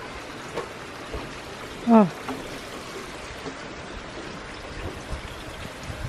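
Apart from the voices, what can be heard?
rain falling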